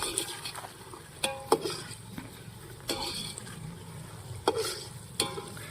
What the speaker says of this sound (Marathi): कांदा छान लालसर रंग येईपर्यंत परतून घ्यायचा आहे.